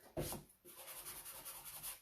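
Sanding sponge rubbed over the edges of a transfer on a wooden surface, a short scuff followed by steady back-and-forth rasping strokes, close and fairly quiet.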